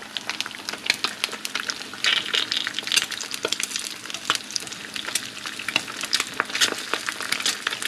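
A fried egg cooks in a pan for chilaquiles, a dense steady sizzle full of sharp crackles and spits. The sound is close and continuous, with no talk.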